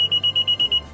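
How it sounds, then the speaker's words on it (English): A quick series of about seven short, bright electronic beeps from a car's smart entry system in rapid succession, loud and close, warning that the doors have not locked; no voices. "If instead you hear a series of rapid beeps for about 2 seconds"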